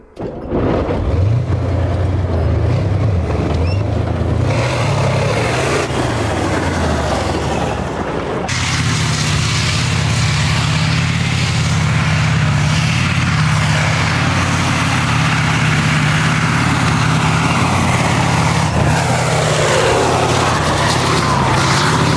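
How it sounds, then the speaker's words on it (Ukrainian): A T-72 tank's diesel engine cranks, catches and settles into a loud, steady rumbling idle with a deep droning hum that continues throughout. "З нашого посібника ви зможете запустити танк Т-72 і всілякі його варіації, а також танк Т-90."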